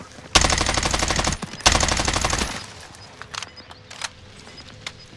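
Sustained automatic gunfire in Call of Duty: Modern Warfare, two long loud bursts of rapid rattling shots followed by scattered, quieter single shots and clicks.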